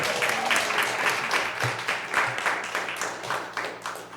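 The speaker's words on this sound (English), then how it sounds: "One more applause." Steady round of applause at a New York State Senate elections committee public hearing, honoring the committee chairman; many hands clapping continuously in a room, fairly loud and sustained.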